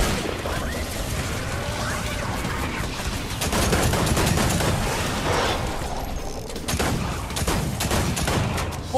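Rapid gunfire from a Fortnite weapon, a crossbow or six shooter, as dense bursts of cracking shots with loud clusters in the middle and toward the end.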